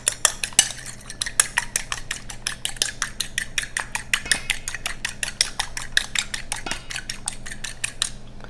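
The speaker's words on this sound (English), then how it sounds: "Then I'm going to stir the egg." A single egg beaten briskly with a utensil against a bowl, a fast steady run of sharp clicking taps for about eight seconds, close and clear with no talking.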